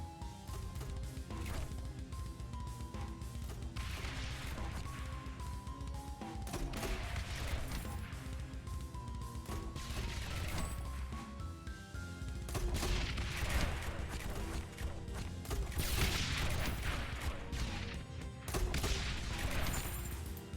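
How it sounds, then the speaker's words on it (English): Mortar towers in the Rogue Tower video game fire in a stream of muffled booms and thuds, layered over continuous game music at a moderate, even level. "Yeah, the mortars sometimes"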